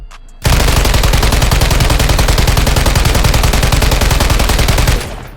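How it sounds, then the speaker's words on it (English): Continuous rapid automatic gunfire from a weapon fired with controller aiming in Call of Duty Warzone, a loud, steady, fast-repeating stream of shots lasting several seconds before cutting off. "I'm gonna try to shoot as straight as possible"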